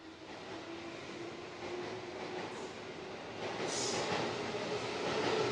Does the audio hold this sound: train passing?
yes